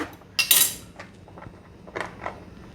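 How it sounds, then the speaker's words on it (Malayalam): A knife cuts green beans into pieces on a board for a garlic bean stir fry, giving a few sharp, close chopping knocks spaced irregularly with quiet gaps between. "ഇനി ഈ ബീൻസ് നമുക്ക് അരിഞ്ഞെടുക്കാം."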